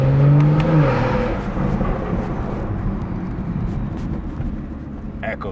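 A car with a B58 engine and an MHD tune drones loudly up close, its revs falling at the start and then settling into a steady, rough rumbling burble that fades slightly toward the end.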